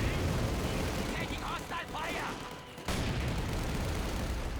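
Mortar fire bombarding infantry in the strategy game Company of Heroes 2, a dense rumble of explosions and gunfire under a commentator's voice, with a brief lull before the barrage resumes.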